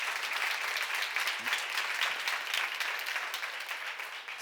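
Audience applause at a church seminar, dense and continuous clapping from a roomful of people, fairly loud and steady from start to finish.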